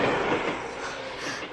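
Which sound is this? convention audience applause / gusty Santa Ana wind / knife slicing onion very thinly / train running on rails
train running on rails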